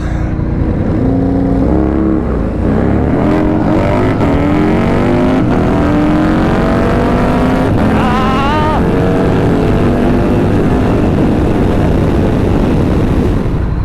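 A Honda Rebel motorcycle revs and accelerates hard against a sport bike, loud rising engine pitch climbing through gears, close and continuous with no talk.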